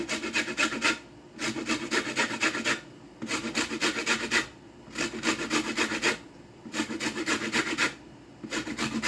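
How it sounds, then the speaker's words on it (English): Lemon zest being grated for homemade biscuits makes close, rhythmic raspy strokes, each about a second long, separated by short pauses, with no talking. "Going to go in with lemon zest. I'm going to just grate it in here."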